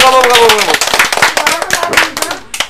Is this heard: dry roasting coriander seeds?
no